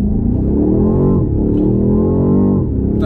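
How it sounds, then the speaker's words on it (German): BMW X6 M50i SUV-coupé with a 530 PS engine pulling away from a traffic light under hard acceleration, a loud, steady engine roar climbing in pitch through the gears with a brief dip at each shift and no talk. "Ich werde gleich nochmal durchbeschleunigen"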